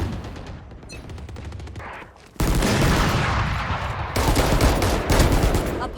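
Bursts of rapid gunfire from the video game Valorant rattle in quick volleys, loud and close, with short gaps and a louder stretch of sustained shooting.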